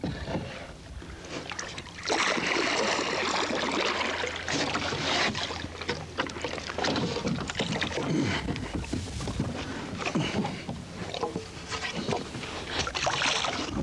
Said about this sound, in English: you paddle like this